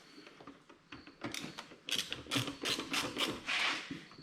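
Screws on a Ford Fiesta airbox being backed out with a T25 driver, giving a run of short mechanical clicks and ratcheting creaks that grow louder and denser partway through, close by with no talking.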